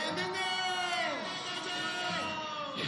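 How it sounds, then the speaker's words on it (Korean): Crowd at a political rally in front of Seoul City Hall cheering and applauding, a broad roar of voices with shouts and whoops over scattered clapping, sustained and loud throughout. "격려 박수 부탁드립니다."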